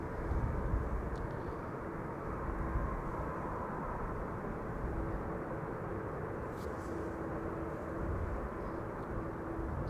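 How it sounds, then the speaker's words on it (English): A KLM passenger jet arriving from Düsseldorf on its landing approach produces a steady, distant roar of broadband engine noise that holds level throughout, with no talk over it. "KLM flight 1800 arriving from Düsseldorf in the meantime is approaching and will be next to land here"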